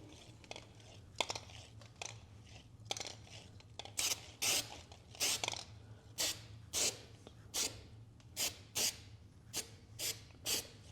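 Zinc weld-through paint is sprayed onto a 1948 Dodge truck frame in short repeated hissing bursts that quicken into a steady rhythm, close up over a faint low hum in a workshop.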